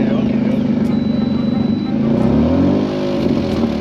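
A manual car engine runs close by during drift practice, its pitch climbing as it revs to about 2,000 rpm and holds, a steady throaty drone throughout.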